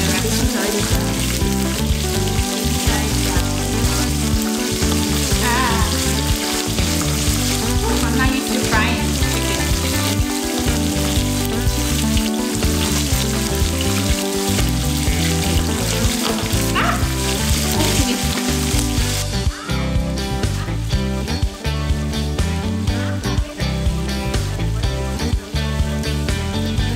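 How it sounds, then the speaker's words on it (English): Chicken frying in hot oil for a Hawaiian plantation-style fried chicken, giving a steady loud sizzle that runs the whole time beneath a rhythmic music bed. "Frying chicken."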